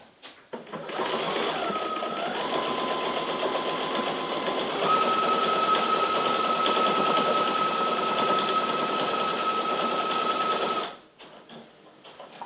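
Close and steady, a sewing machine runs a long continuous seam through jute fabric for a reusable dish sponge, with a faint high whine above the motor hum until it stops abruptly.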